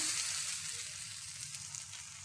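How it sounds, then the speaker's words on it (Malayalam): A moringa leaf dosa sizzles steadily on a hot pan just after being flipped, a constant close frying hiss with no talking. "രണ്ടാമത്തെ ദോശയും മറിച്ചിട്ട് കൊടുക്കാം"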